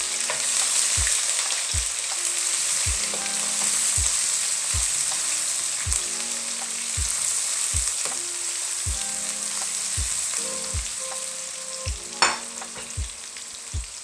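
Onions sizzle steadily in hot oil in a pan for a mash daal tadka, a continuous bright crackle with regular soft low knocks of stirring throughout and one sharper clink near the end.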